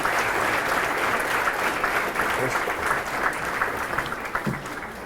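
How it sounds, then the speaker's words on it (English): High school audience gives a governor a sustained round of applause after a coding tour event, with dense, steady clapping throughout and a faint murmur of voices in the crowd. "let's give him one more real good round of applause"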